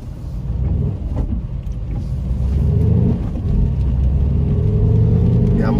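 A Dacia Duster II drives at night on a back road with its active sound module switched on, giving a continuous close engine and road rumble with low voices murmuring over it.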